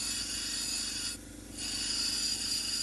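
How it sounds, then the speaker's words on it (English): Stone cabochon being ground on a wheel, a steady abrasive rasp running throughout, near and fairly loud, dipping briefly midway as the stone is lifted to check it, sped up. "You grind a little, check it"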